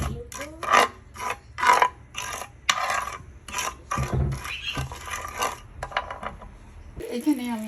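Sugar, ghee and water being stirred in a cooking pan, heard as a run of short, uneven scraping and clinking strokes, fairly close, with some faint background sound between them.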